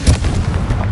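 A Confringo blasting spell goes off in Hogwarts Legacy, a heavy booming explosion with a deep low thump that rumbles on briefly, loud and close.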